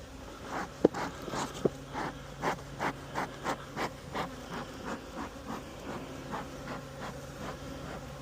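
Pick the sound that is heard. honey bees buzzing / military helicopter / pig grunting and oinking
honey bees buzzing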